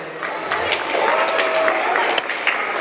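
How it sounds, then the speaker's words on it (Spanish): An audience at a school tribute to César Vallejo claps steadily for a student, a dense patter of many hands at moderate volume, sustained for a few seconds. "fuerte aplauso por Alonso."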